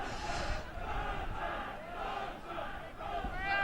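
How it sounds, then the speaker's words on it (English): A rugby league crowd at Huddersfield versus Leigh jeers and boos the referee over the penalty count, a broad, distant roar of massed voices swelling and fading in waves across the stand. "Crowd booing the referee, not happy with this penalty count."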